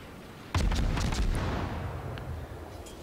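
An American destroyer's deck guns fire in World of Warships, a sudden booming volley of several rapid shots that then rolls off into a long fading rumble, loud and close with no talk.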